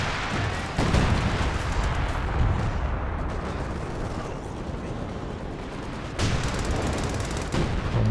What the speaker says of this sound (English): Some base howitzer fire coming down.